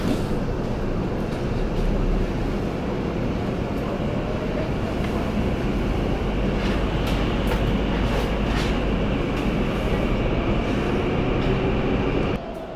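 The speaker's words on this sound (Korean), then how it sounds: "수서역을 출발하는 GTX 열차입니다." Steady broadband rumble of a GTX high-speed subway train pulling out of Suseo station, heard from inside the car as it runs underground; a continuous, moderately loud roar with low hum and occasional faint high squeals, no talking.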